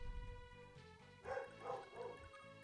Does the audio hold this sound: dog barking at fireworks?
yes